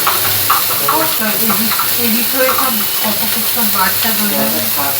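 Ground cumin, coriander, turmeric and chili powder sautéing in a pan, giving a close, steady hiss and sizzle with soft scraping stirs throughout, under a busy kitchen background.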